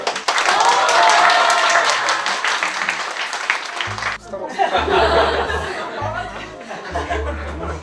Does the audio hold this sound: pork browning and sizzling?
no